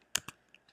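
Keys tapped on a computer keyboard: two sharp, close clicks followed by two fainter ones, quick and irregular, with no voice.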